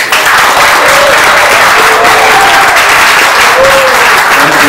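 An audience at a workers' celebration breaks into loud, sustained applause, a dense wash of clapping that fills the room steadily with a few voices calling out faintly within it.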